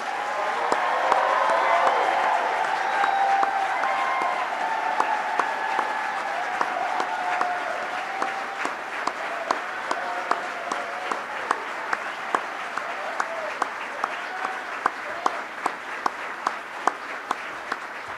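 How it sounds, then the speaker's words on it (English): An audience applauds scholars of historically Black colleges and universities at a formal event, sustained broad clapping that starts strong and slowly thins, with a few louder close claps standing out. "Would you please stand so that we can congratulate you and applaud?"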